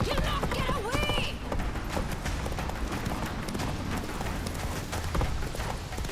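Roach, a horse in The Witcher 3: Wild Hunt, gallops in a steady run of hoofbeats amid dense game action and noise, with a voice urging it on over the hooves.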